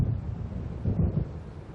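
Low, rolling thunder rumbles from an approaching storm in the video game Alan Wake Remastered. The heavy, continuous growl swells slightly midway, with no voices over it.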